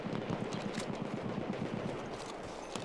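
Rapid automatic gunfire in Battlefield 1 multiplayer, a fast even rattle of shots through the first two seconds that then thins into a fading tail, with no speech.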